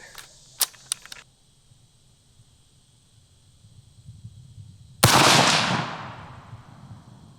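A single sharp scoped rifle shot fired outdoors, loud and close, with a long decaying boom after it. A few faint clicks come before it.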